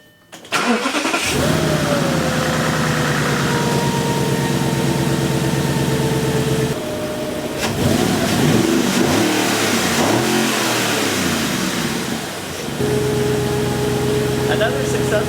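Audi A8 engine cranking and starting after a timing belt change, then revving up and settling to idle in repeated swells, loud and close, with someone talking over part of it.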